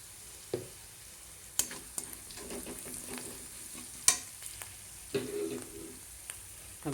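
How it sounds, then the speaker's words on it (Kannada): A spice mixture with onion, curry leaves and asafoetida fries for a Rajasthani gawar phali sabzi, with a low sizzle and irregular sharp clinks and scrapes from stirring in the pan, heard close. "ಅದನ್ನು ಹಾಕಿ ಹಾಕಿ ಬಿಡದೇನೆ ಒಂದು 5 ನಿಮಿಷ ಕೈ ಆಡಬೇಕು. ಕುದ್ಕೋತಾ ಇದೆ."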